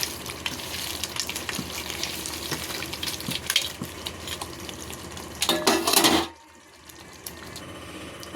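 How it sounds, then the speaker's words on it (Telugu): Semiya vermicelli fries in a pan for Ramzan semiya, a steady close sizzle broken by scraping stir strokes until it stops abruptly near the end. "ఇప్పుడు మనం ఫ్రై చేసుకుందాం."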